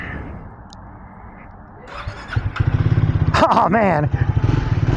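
A Triumph Speed 400 single-cylinder motorcycle engine cranks, catches and settles into a loud, close, pulsing thump that is steady and quick, with a brief rev partway through and a man's short exclamation over it.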